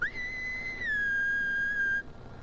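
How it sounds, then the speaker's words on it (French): A person whistles a single sustained high note that slides up at the start, holds steady, then dips slightly lower and holds again for about two seconds before stopping, close and alone. "Fais comme si tu sifflerais"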